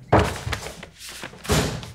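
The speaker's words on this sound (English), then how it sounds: "Shut the door on your way out, okay?" A door thuds shut indoors with a solid close thunk, followed by a second heavier knock a moment later, both short and near.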